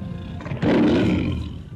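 A tiger sound effect gives one loud, rumbling roar that swells about a third of the way in and holds steadily before slowly fading, close and alone with no voices.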